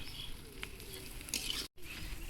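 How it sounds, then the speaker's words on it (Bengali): Spices frying in a pan at an outdoor riverside cooking spot, a steady close sizzle with soft stirring scrapes, briefly cut to silence near the end. "আমরা এখন মশলাটা ভেজে নেব"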